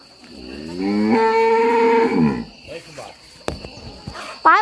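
A cow on a rural farm lets out one long, loud, close moo that bends downward as it ends, followed by quieter farmyard sounds and a few soft voices.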